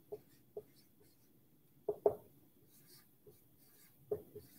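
Pen or pencil writing notes by hand during a lecture: a handful of soft, scattered scratches and taps with quiet pauses between them, near and faint, with no talking.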